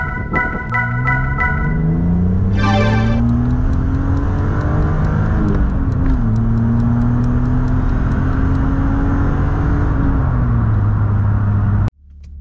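A BMW Z3 2.8i coupé is driven with its engine rising through the gears, steady pulls broken by a couple of shifts, loud and close from inside the cabin before cutting off abruptly near the end.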